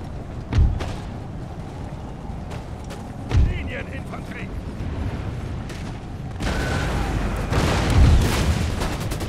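Musket gunfire in an Empire Total War battle: a few deep, booming shots ring out over a constant, rumbling din of distant fighting, with no voices heard.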